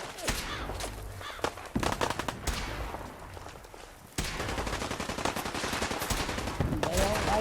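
Gunfire in the video game Fallout 4: rapid bursts of automatic shots rattle almost nonstop, with a brief lull before the firing picks up again, dense and fairly close.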